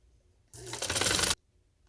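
A sewing machine stitches a pink trouser in one brief, dense run of under a second, starting and stopping abruptly with nothing else around it.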